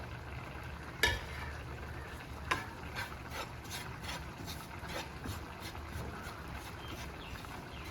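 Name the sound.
dry-roasting chillies and coriander in a pan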